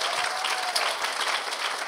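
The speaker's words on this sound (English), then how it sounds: "round of applause" Steady, dense audience applause fills a women's awards ceremony hall, continuous and even throughout with no voices rising above it.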